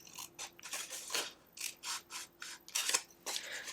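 Scissors snipping paper at an angle for an Easter basket treat box, a series of short, close rasping cuts in quick bursts, fairly quiet with no talk.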